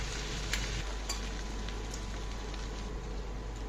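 Chopped garlic, ginger and green chilli fry in hot oil with a steady, close sizzle that has a faint crackle. A low hum sits underneath, and a few soft pops stand out.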